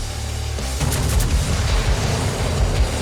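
High-explosive shells from the battleship Alabama strike in World of Warships, a dense, loud rumble of booming impacts that rolls on without pause.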